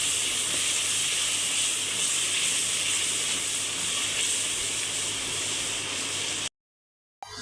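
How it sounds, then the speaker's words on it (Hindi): Masala with green chili sizzles in a pan as a continuous, loud, even hiss for several seconds, then cuts off abruptly near the end. "ग्रीन चिली, मसाले को अब अच्छे से भूनेंगे।"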